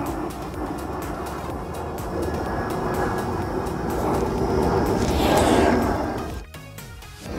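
Airplane flying overhead, a loud broad roar that swells to a peak and then fades, heard outdoors with no talk over it.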